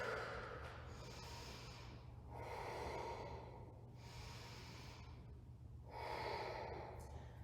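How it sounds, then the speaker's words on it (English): Slow yoga breathing while holding warrior two pose: soft, airy inhales and exhales in a slow, even rhythm, with three longer breath cycles rising and falling against a low background hum. "Taking a few rounds of breath here."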